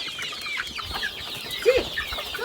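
Chickens cluck and chatter softly while being herded home into their coop, a continuous scattered chorus of short calls with one slightly louder squawk near the middle.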